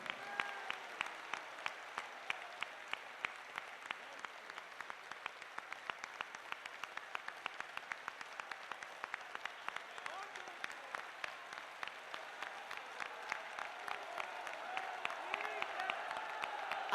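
A large crowd at a Hanuman Chalisa recitation gathering claps steadily and rhythmically, many hands beating in unison with sharp regular pulses, heard from a distance and sustained throughout.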